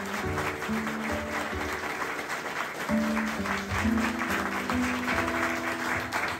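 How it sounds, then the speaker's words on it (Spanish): Applause from a gathered congregation fills a church during Mass, with sustained organ or sung tones and faint voices underneath. "Vamos a brindarle un fuerte aplauso al Santísimo Sacramento del altar."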